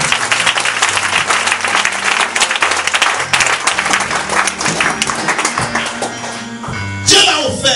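Church congregation applauding and acclaiming the Lord during an Easter service, loud continuous clapping with crowd voices and musical tones underneath, broken by a brief louder burst near the end.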